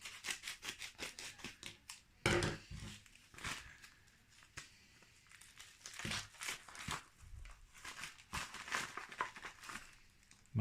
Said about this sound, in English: No clues, so let's just cut it open.